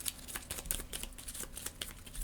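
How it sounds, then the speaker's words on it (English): A deck of cards from the board game Viscounts of the West Kingdom is shuffled, giving a quiet, rapid run of soft papery riffling clicks close by. "And then we're going to shuffle."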